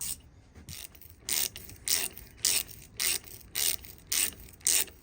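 A hand ratchet turns a 3/8 12-point socket on a Harley Davidson front brake master cylinder, making eight crisp, evenly spaced clicking bursts after a short quiet start, close and clear with no talking.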